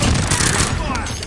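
Call of Duty: Warzone gunfire erupts as a dense, loud burst of rapid shots and impacts crackling close by, with a voice calling out over the firing.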